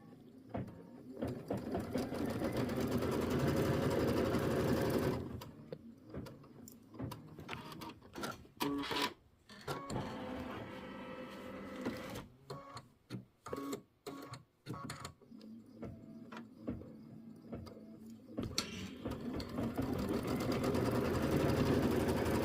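An embroidery sewing machine stitches a placement line on black fabric for a quilting block, running in a loud, steady buzz that breaks into stops and short, choppy bursts of stitching midway before resuming its continuous whir.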